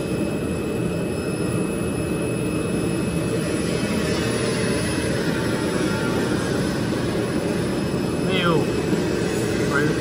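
A digital cutting machine for custom carton boxes runs with a loud, steady broadband roar and whir, continuous throughout, with faint speech underneath.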